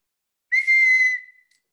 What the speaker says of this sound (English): I kind of wish God was standing right there with a whistle